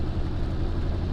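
A rebuilt John Deere 4430 tractor engine runs steadily during a light drive. It makes a continuous low, rumbling drone that stays close and even throughout.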